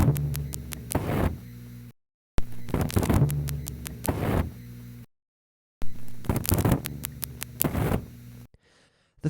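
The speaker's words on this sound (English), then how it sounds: "What you're hearing is the moving brass contact sliding over the spring that's" A mechanical panel telephone switch working through its sequence, brass contacts sliding over springs, making rapid clicking and ratcheting bursts in three separate runs broken by brief silences.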